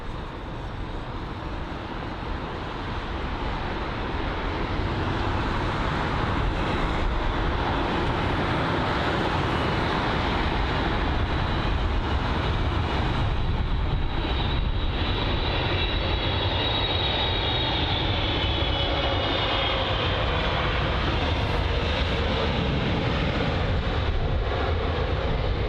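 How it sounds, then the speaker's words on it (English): A Boeing 777 lands at London Heathrow with a continuous heavy jet roar that swells and holds steady, with no voices. "It's the 777 there. Let's see if he smoothens this landing out."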